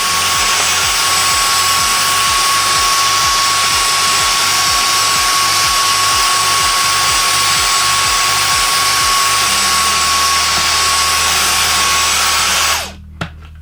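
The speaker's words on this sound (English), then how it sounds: "Just using a Dyson cordless for this." A Dyson cordless vacuum cleaner runs steadily close up with a loud high whine and airy rush, a pulsing flutter underneath, then cuts off abruptly near the end.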